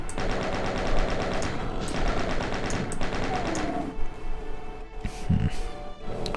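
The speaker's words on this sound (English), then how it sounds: "Just use the chain gun for these guys." A chain gun fires steadily in the video game DOOM, a loud continuous rattle of rapid shots with a few brief pauses and other game sounds in the closing seconds.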